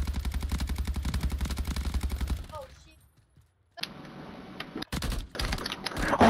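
Rapid automatic gunfire in Warzone hammers out in a fast even rhythm, then stops for a near-silent gap before more clattering shots and bursts come back in loud bursts.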